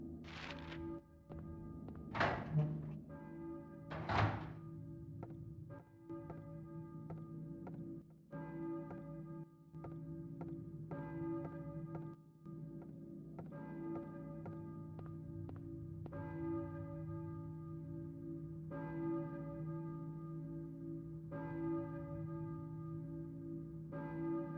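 Distant church bell in the Silent Hill video game, tolling at a slow, even pace with sustained ringing overtones, preceded by a few heavy thunks and set against a low humming game ambience.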